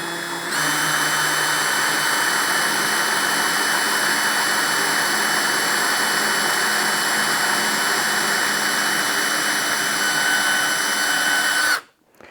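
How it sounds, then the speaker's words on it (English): Power drill boring a cabinet handle hole through a jig, whining loud and steady at constant pitch for about eleven seconds, then stopping abruptly. "Insert your drill."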